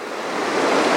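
Outdoor moving water rushes as a steady broadband wash, swelling slightly louder over the short span with no voices present.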